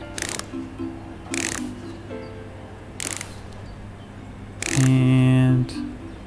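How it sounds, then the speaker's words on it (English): Screws being fitted into a Roomba vacuum cleaner during a repair in the game Electrician Simulator: short bursts of mechanical clicking and ratcheting, several separate quick actions, then a longer whirring tightening near the end. "Let's put the screws in."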